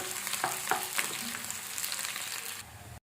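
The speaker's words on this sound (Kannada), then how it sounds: "ಈರುಳ್ಳಿನ ಚೆನ್ನಾಗಿ ಫಸ್ಟ್ ರೋಸ್ಟ್ ಮಾಡ್ಕೋಬೇಕು" Chopped onions roast in oil in a pan for an aloo matar masala, giving a steady close sizzle with a few scraping stir strokes before it cuts off abruptly.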